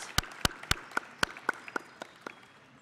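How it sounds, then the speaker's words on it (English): Sparse, evenly spaced hand claps ring out as a round of applause for a sponsor at a program event, about ten crisp claps that gradually soften, with no talk. "So let's give them a round of applause."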